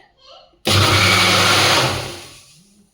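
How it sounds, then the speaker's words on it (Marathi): A mixer grinder whirs loudly for about a second and a half as it blends cold coffee with milk powder, then winds down. It starts abruptly after a brief quiet moment. "मिक्सरचं झाकण लावूयात आणि व्यवस्थित आपण फिरवून घेऊयात"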